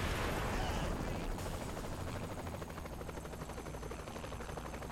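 A helicopter in the video game Saints Row: The Third gives a loud, steady, broadband rotor roar with a deep rumble. Crackling, gunfire-like noise runs over it for the whole stretch.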